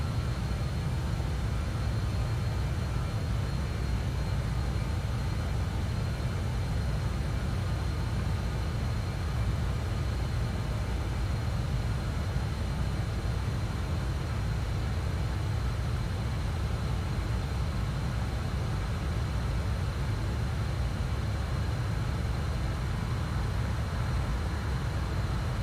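A BAe 146 Professional airliner on final approach to landing with full flaps in Microsoft Flight Simulator, a steady broad engine and airflow roar holding constant and unbroken throughout.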